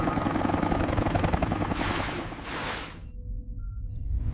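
A helicopter flies close by with a steady, loud rotor chop and a whooshing swell of engine noise that drops away near the end.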